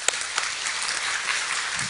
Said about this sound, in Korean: 이해가 된 사람만 하나님께 영광의 박수